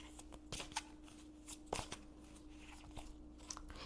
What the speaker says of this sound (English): now let's see what's coming through on the oracle cards.